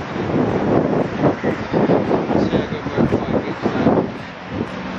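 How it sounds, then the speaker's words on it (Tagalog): Strong wind buffets the microphone in heavy, uneven gusts in Doha, Qatar, rumbling loudly and pulsing throughout with no voices. "Ang lakas ng hangin"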